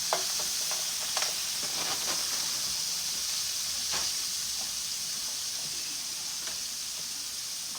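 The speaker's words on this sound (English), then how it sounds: "we're gonna saute these up first" Peppers and onions sautéing in a pan for smothered pork chops, giving a steady close sizzle and hiss with a few light stirring scrapes, no talking.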